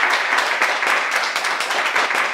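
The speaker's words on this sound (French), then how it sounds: "Je vous demande d'applaudir leur courage" Gala audience applauds continuously, a dense, steady wash of many hands clapping at close range with no pauses over the short stretch.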